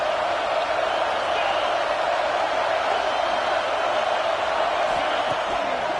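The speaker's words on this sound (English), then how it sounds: "This crowd knows when to bring it." A large football stadium crowd in Florida roars steadily during a third down, a dense continuous wall of cheering and noise heard from within the stands.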